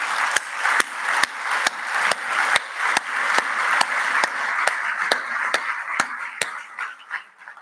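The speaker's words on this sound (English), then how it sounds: "But for now, applause for Charlene and Maricel." Steady applause at a moot court opening ceremony honoring two organizers, with a broad wash of clapping and a few sharp, regular claps standing out close to the mic across several seconds.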